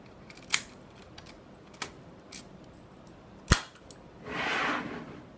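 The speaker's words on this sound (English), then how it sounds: "Put the key into the cylinder and turn left and pull it out." A key works in the cylinder of a Nagasawa KL 4000 mechanical combination lock, giving a few sharp metallic clicks spaced apart, then a brief soft scraping slide as it is withdrawn. The sounds are quiet and close, with no talking.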